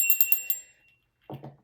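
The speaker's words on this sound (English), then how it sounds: "There's also bells that you can use to cleanse." A small cleansing bell used in witchcraft rings a few quick bright strikes that leave a sustained shimmering tone, followed by a brief softer rattle after a pause.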